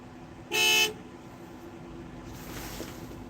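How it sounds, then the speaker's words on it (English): A car horn honks once from a vehicle close behind, a loud steady blare of roughly a third of a second over a low road hum and faint background noise. "I got somebody behind me honking the horn"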